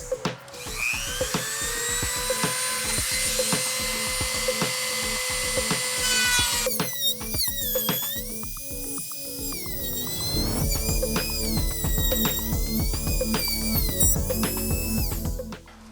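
A grinding wheel cuts into a motorcycle fairing with a loud, high, whining buzz. The pitch shifts as it bites, breaks off partway through, then resumes with wavering tones and rattling.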